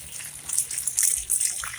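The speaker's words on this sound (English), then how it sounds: "I give them a generous amount of water." Water pours onto potted pak choy plants in hot weather, a close, steady gushing and splashing hiss that swells and dips unevenly.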